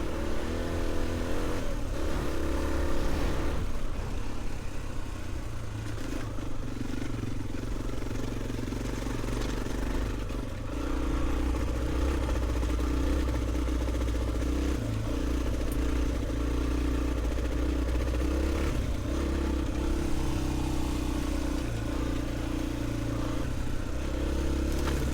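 A Honda XR400 dirt bike rides steadily off-road, its engine droning loud and continuous with shifting revs and some clatter throughout, with no talking.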